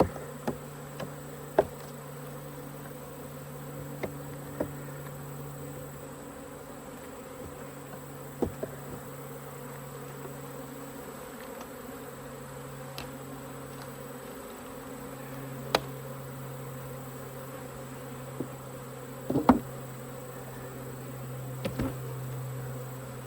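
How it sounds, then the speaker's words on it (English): A steady, droning buzz of many honeybees fills the air, with scattered faint ticks and taps; no voices. "Bees on the wall of that box."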